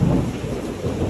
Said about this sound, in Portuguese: Que chuva bonita, hein?